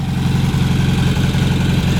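A 1972 VW Karmann Ghia with an upgraded 1680 engine idling, a loud, close air-cooled putter with a steady low pulsing rhythm and a few faint uneven beats.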